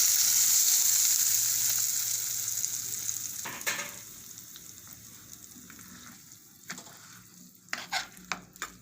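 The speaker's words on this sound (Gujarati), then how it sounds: "અને આમાં આપણે વઘાર કરી નાખીએ" Cumin tempering sizzles loudly in hot ghee in a pan for a green turmeric curry, the hiss fading over a few seconds into scattered crackles and stirring clatter.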